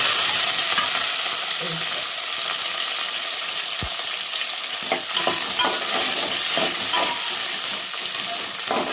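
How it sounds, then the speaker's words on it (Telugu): Onion and green chili stir-fried in a pan with cumin and mustard seeds, a loud continuous hissing sizzle with a brief clank early on and rhythmic stirring scrapes in the second half. "ఉల్లిగడ్డ పచ్చిమిర్చి కలప"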